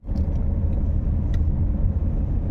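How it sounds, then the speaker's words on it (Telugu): A car engine idles with a steady low rumble close by, running alone without voices. "చలో రైట్ స్టార్ట్ చేయరా కారు."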